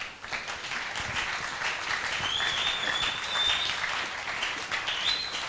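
A church congregation at a seminary gathering claps together, a moderately close, steady wash of applause that continues without pause and carries no talk.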